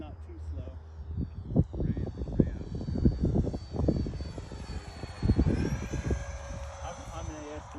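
A 3D-printed F-18 model jet with a 50mm electric ducted fan makes a slow outdoor flyby. Its thin, high whine rises and shifts in pitch as it passes, while people talk loudly over it.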